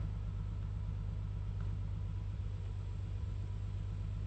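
A BMW E30 engine idling right after its first start, a low, steady rumble that stays even throughout, quiet and alone with no voices.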